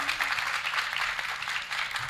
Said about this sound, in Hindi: एक बार ताली बजाइए मास्टर जी के